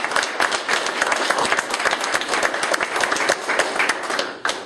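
An audience applauds at a Brighton war memorial funding announcement held with the Royal Canadian Legion, a steady, full round of clapping from a crowd indoors that fades near the end.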